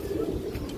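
Domestic pigeons coo close by in a low, soft rolling call, a single short phrase with no talking.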